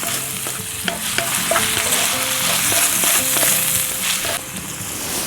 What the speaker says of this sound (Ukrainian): Додаємо цибульку та часник. перемішуємо.